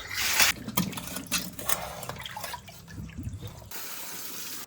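Tap water runs into a sink while fresh home-grown chillies and tomatoes are rinsed, a steady close splashing with brief clattering, fading out near the end.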